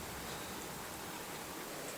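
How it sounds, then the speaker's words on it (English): Steady rain falling outside, a dense, even hiss of drops on surfaces with no breaks, heard close and alone without any voices. "Let me show you the weather outside. So as you can see, it's pretty rainy."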